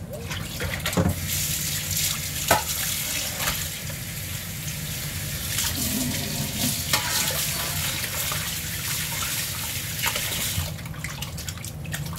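Running tap water rinsing raw chicken in a kitchen sink for a Mexican chicken dish, a steady hiss and splash throughout with occasional clunks and knocks, no speech.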